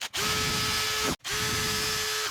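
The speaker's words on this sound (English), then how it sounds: "I'm going to use my template and I'm going to drill me 3 holes." A power drill bores three holes through a template during a custom Gibson Modern-style guitar build, running in two steady whirring bursts with a brief stop between them, close and loud.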